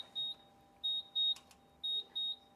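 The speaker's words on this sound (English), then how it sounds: "That beep is telling me that the oven is having a moment." A malfunctioning oven sounds its alarm in five short, high electronic beeps in an irregular rhythm, clear and close against a quiet room.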